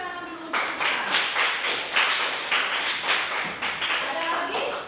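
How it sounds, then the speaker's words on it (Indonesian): A classroom of students claps together for a classmate named Ica, a steady, fairly loud burst of applause that runs almost the whole time after a brief moment of voices at the start. "Tepuk tangan dulu untuk Ica."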